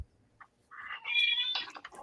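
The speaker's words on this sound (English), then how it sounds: "Somebody's got a crying cat." A crying cat lets out a drawn-out, plaintive meow that rises and wavers for about a second, nearby and clear, after a faint short chirp, in an otherwise quiet room.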